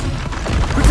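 A Confringo blasting spell goes off in Hogwarts Legacy: a loud, dense burst of noise lasting about a second, swelling into a deep rumble at the end.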